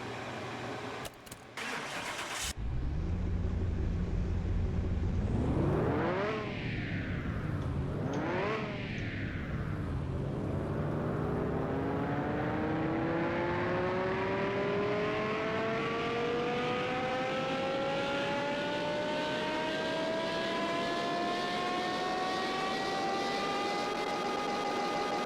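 Car engine in Car Mechanic Simulator 2021 cranks and starts, blips twice, then revs in one long steady climb on a dyno for about fifteen seconds, loud and close with rising tonal whine and no talking.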